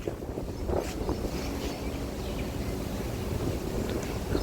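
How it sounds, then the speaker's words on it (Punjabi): Strong cold wind gusting steadily outdoors under dark rain clouds, a broad continuous roar buffeting the microphone throughout with no pauses. "ਹਵਾ ਬਹੁਤ ਤੇਜ਼ ਚੱਲ ਪਈ ਨੇਰੀ ਦੀ ਤਰ੍ਹਾਂ ਇਹ ਹਵਾ ਤੇ ਪਰ ਠੰਡੀ ਹੈ"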